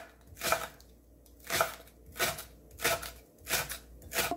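A knife chops green onion on a cutting board in a home kitchen, a handful of crisp, slightly crunchy strokes spaced about a second apart, close and fairly quiet with no talking.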